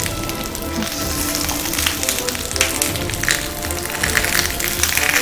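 Vegetables frying on a hot sizzler plate for sabudana tikki give a dense, steady crackling sizzle that stays close and fairly loud the whole time, with no talking.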